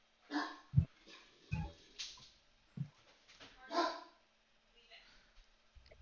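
A dog gives a few short, low barks and huffs with breathy gaps between them, close by and moderately loud.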